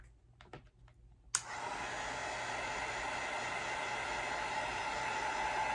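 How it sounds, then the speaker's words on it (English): A heat gun switches on with a sharp click and then blows hot air at a sneaker in a continuous, even, close hiss and whir that holds steady to the end, after a few faint taps beforehand. "Then you're gonna take the heat gun."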